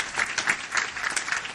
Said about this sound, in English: Let's have a round of applause for Jeff Horn.